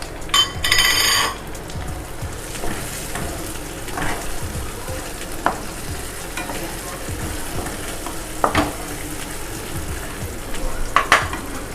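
Mint and coriander leaves added to ginger in a hot pan, a loud burst of sizzle at the start settling into steady frying with repeated stirring scrapes and clinks, close by.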